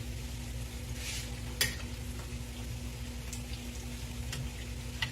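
Six hush puppies frying in hot oil give off a steady, fairly quiet bubbling sizzle, with an occasional sharp pop breaking through the continuous hiss.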